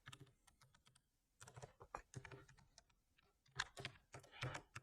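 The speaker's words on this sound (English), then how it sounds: "Now you type your password." Faint, close keystrokes on a computer keyboard as a password is typed, coming in quick bursts of clicks with short pauses between them.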